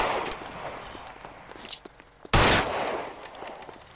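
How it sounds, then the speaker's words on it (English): A single sharp, loud gunshot cracks out in the L.A. Noire video game during a chase, set against faint footsteps and scattered clicks in an otherwise quiet scene. "Shoot his ass dead while he running."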